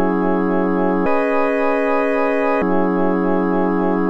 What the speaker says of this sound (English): we just came into Analog Lab 5 and chose this A5 rotary organ preset